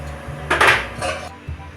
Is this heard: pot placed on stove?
yes